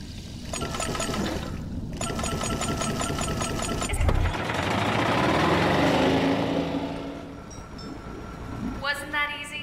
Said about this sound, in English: The engine is engaged, and we are starting our ascent.